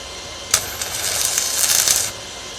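Electric arc welding with a Paton VDI 250 inverter at around 150 amps, a steady crackling hiss that starts with a sharp strike and holds for about a second and a half before stopping abruptly.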